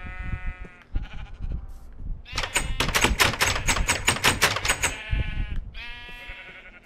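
Minecraft sheep bleat in short harmonic calls at the start and end, with a burst of rapid clicking taps between them, loud and close over faint background noise.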